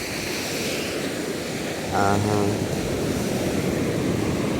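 Continuous surf from waves breaking on a seashore, a broad steady roar with wind buffeting the microphone; a brief tonal voice-like sound cuts in near the middle over the waves.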